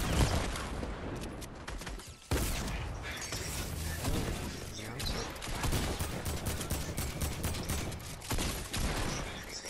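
Rapid drum gun fire in a shooter video game, dense bursts of gunfire running almost the whole time, loud and busy with brief gaps and some game clatter mixed in.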